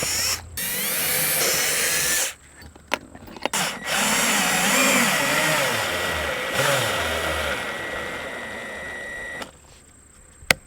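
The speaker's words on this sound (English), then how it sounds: "I'm going to use 2 different size drill bits, a larger one that matches the shaft of the bolt, and a little bit smaller one that'll just act as a pilot for the threads." Power drill boring bolt holes for solar panel mounting brackets, first with a pilot bit and then a larger bit matching the bolt shaft; steady loud whine in long bursts with brief pauses, no talking.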